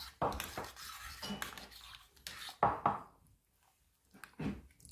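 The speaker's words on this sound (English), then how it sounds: "Give it a bit of stir." Metal spoon clinking and scraping in a pot while stirring ground cinnamon into a drink, a string of close, irregular knocks and scrapes with short pauses, no talking.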